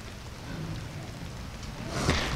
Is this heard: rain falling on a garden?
yes